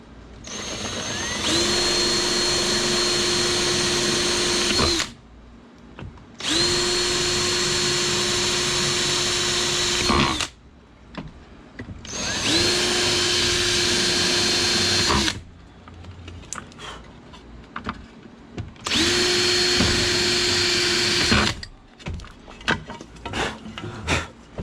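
A power drill drilling fiberglass to mount a Garmin EchoMap sonar whines in four long, steady bursts separated by short pauses, with faint clatter and handling noise between them.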